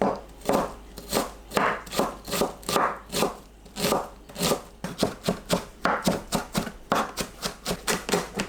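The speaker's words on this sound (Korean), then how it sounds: "양파 반 개를 다집니다." Rapid, rhythmic knife chops dicing half an onion on a cutting board, dozens of quick crisp strikes in short bursts, close up and fairly loud with no talking.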